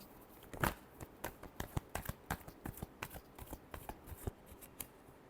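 Tarot cards shuffled by hand in a final shuffle, a quick run of crisp, soft flicks and riffles close up, with a few sharper snaps standing out in the sequence.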